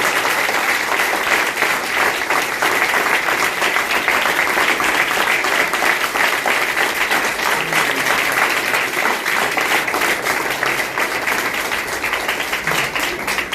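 A church congregation applauds together, a dense, steady wall of clapping that stays loud and continuous throughout with no break.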